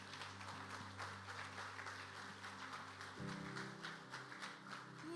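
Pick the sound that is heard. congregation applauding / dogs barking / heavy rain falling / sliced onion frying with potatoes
congregation applauding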